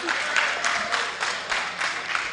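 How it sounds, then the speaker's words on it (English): An audience team at an annual general meeting in a rowdy hall claps together in a brisk, rhythmic burst of steady handclaps, fairly loud and sustained, with no talk over it. "You see that the clap is different."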